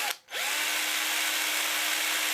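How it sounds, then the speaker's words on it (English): A power drill spins a soft plastic bait against an 80 grit sandpaper block, a brief pause followed by a steady, loud whirring hum that runs on unbroken. "put it in my drill chuck, and with some 80 grit sandpaper, I'm just gonna spin this on the sandpaper block"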